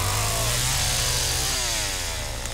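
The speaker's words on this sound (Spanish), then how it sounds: "está como demasiado alto el sonido de la motosierra." A chainsaw in The Texas Chain Saw Massacre video game runs loud and close, its buzzing engine whining in rising and falling sweeps over a constant low drone, with no voices.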